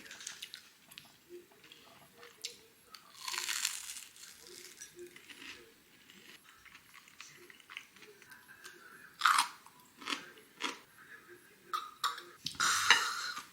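Crunchy pork cutlet (tonkatsu) dipped in jjolmyeon is chewed close to the mic, with crisp crunching bites coming in irregular bursts and quieter chewing between them. No one speaks.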